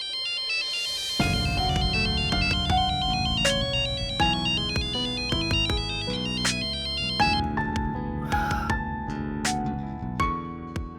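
Mobile phone ringtone playing a melodic electronic tune, loud and close, ringing on unanswered for about ten seconds with no talk over it.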